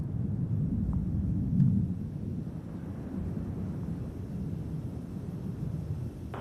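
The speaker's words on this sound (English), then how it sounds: "a sonic boom felt throughout the Kennedy Space Center and Cape Canaveral Air Force Station area" A sonic boom from a returning SpaceX Falcon 9 first stage over the Cape Canaveral and Kennedy Space Center area, heard as a distant, deep rumble with a slight swell early on before settling into a steady low roar.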